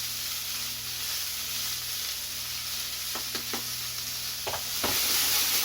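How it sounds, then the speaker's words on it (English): Vegetables for a curry lamb tagine sizzle and crackle steadily in a hot pan, browning, with a few brief clinks and scrapes of stirring toward the end. "Let that really sizzle, see it brown a little."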